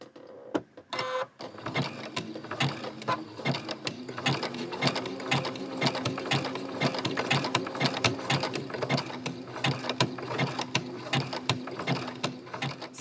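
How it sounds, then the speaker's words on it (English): Sewing machine zigzag stitching millinery wire around a hat brim made with buckram, a close, fast rattling run of needle strokes that starts after a brief stutter and keeps going steadily with no talking. "I have put millinery wire all the way around with a zigzag stitch"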